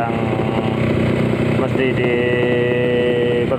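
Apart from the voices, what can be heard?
Yamaha RXS 150cc motorcycle engine running, sound check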